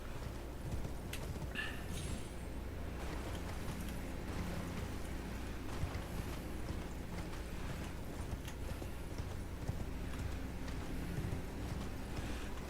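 Horse hooves clip-clop steadily in a video game, a light repeating patter over a dense, continuous game soundscape of ambient noise and low rumble.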